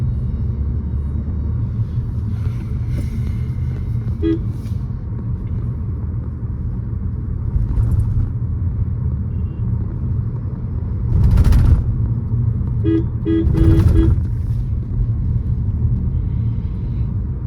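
Car driving along the NH6 highway at about 53–55 km/h, a steady continuous road rumble and engine drone throughout, with a couple of brief louder swells from passing traffic and no talk.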